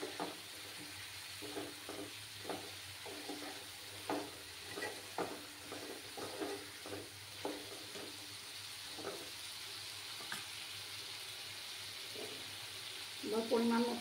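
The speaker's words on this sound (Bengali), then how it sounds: "আলুগুলো দিয়ে দিলাম, দিয়ে ভালো করে কষিয়ে নেব" Potatoes sautéed with spices in a pan give a faint, steady sizzle with repeated soft stirring and scraping strokes throughout, ending in a slightly louder clatter.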